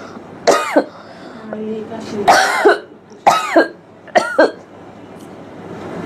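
A person coughs in several harsh, separate bursts, some of them doubled, close to the listener. There are quiet pauses between the coughs, and no words are spoken.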